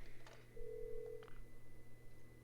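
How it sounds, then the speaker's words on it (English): A video game telephone gives a short electronic ring, a steady tone lasting under a second between faint blips, alone over a low hum. "I believe this is one of the rare phone calls in the game."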